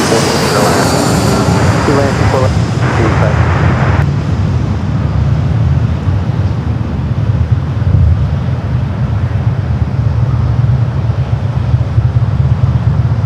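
An airliner taking off from runway 24 left at Los Angeles LAX airport gives a loud, steady, broadband engine roar that lasts throughout, with brief voices in the first few seconds.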